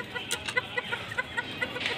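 Hens and a rooster in a home coop make a steady series of short, evenly spaced clucks, moderately close with nothing else layered on top.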